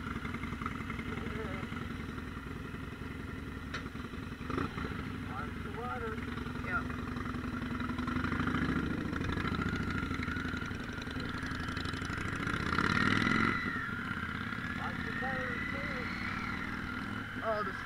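A Harley-Davidson Street 500 motorcycle idles with a steady, low, throbbing rumble that swells slightly near the end, heard outdoors beneath people talking.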